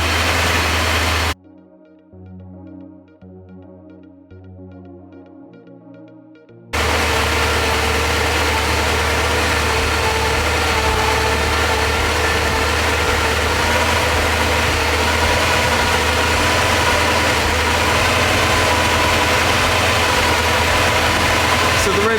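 The engine of a Porsche 928, running with a high idle fault, idles steadily while warming up. A brief quieter stretch is followed by a loud, constant low rumble and hum.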